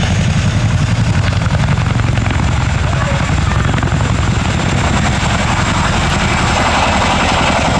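Boeing Chinook HC.6 twin-rotor helicopter of the Royal Air Force, powered by two Honeywell engines, making a high-power departure at an air show; a loud, steady, unbroken roar of turbine and rotor noise with dense low thumping throughout.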